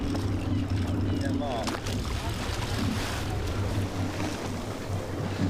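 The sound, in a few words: fishing boat engine idling on a tick over at sea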